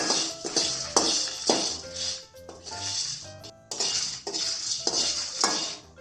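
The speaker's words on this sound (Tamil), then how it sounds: "இந்த மிளகாவும் நல்லா வறுப்பட்டு அந்த மிளகும் கரெக்டாக வறுப்படுது" Dried red chillies and black peppercorns dry-roasting in a pan for idli powder, heard as repeated scraping and clattering of a utensil against the pan in uneven bursts, with no talking.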